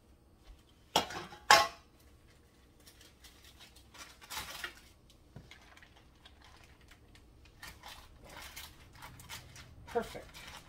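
Metal pan and dishes clatter and clink in a kitchen, with two sharp, loud knocks early on and then softer scattered taps, scrapes and rattles as cookware is handled while preparing a London broil marinade; a voice speaks in between.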